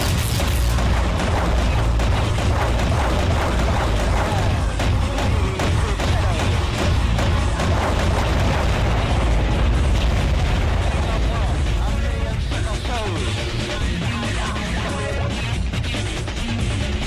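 Weapon fire and explosions from the underwater combat game Aquanox roar continuously and loudly, dense booms and bursts layered together for the whole stretch with voices talking over the din.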